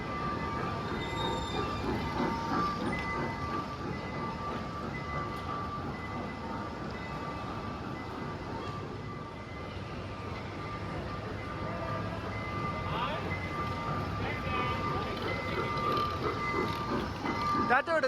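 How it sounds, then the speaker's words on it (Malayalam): Train ride near Thiruvananthapuram: a continuous rumble of wheels on rails with rattling carriages and occasional faint wheel squeals, heard from inside the moving train throughout. "ഞാനും കുഞ്ഞാവയും കൂടി ട്രെയിനിൽ പോവാണ് ഗൈസ്."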